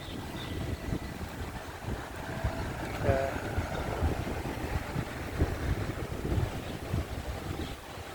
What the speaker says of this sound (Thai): วันนี้ก็ลมพัด